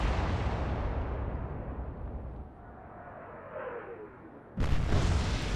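Naval guns of the battlecruiser Renown firing in the naval combat game Atlantic Fleet, a deep rolling boom fading into rumble, then a second sharp, loud blast near the end.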